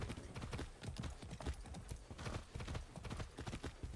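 Horse hooves clip-clopping at a steady riding gait in the video game Far Cry 6, a quick continuous run of close, rhythmic hoof beats that stays faint throughout.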